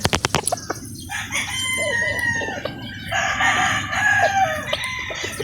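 Several game fowl rooster crows ring out in succession at a game farm in Batangas, loud and close, with a few sharp clucks and clicks at the start and no talking.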